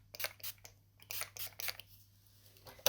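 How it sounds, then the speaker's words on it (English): Several short, close bursts of Urban Decay All Night setting spray misted from a pump bottle during a makeup routine, with quiet gaps between pumps. "I'm just going to spray that."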